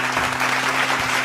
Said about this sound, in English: I gotta clap it up for you on that one.